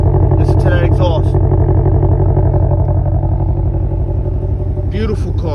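A 2020 Ford Mustang Shelby GT500 exhaust rumbles loudly and steadily at close range, a deep continuous burble holding throughout, with someone talking over it at the start and end.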